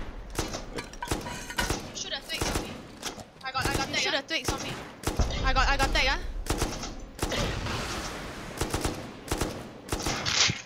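A Rust raid defence brings bursts of video game gunfire, rapid automatic volleys and single shots with heavy thuds, constant over the clip while players talk over them.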